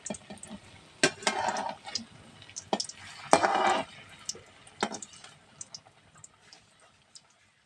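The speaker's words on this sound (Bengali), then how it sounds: "এইভাবে সমস্ত ম্যাগির মুখটাগুলো ভেজে নেবো।" Pieces of Maggi noodle muitha fry in hot oil, giving intermittent crackles, spits and sizzling bursts with scattered clicks and taps from a spatula, fading toward quieter popping.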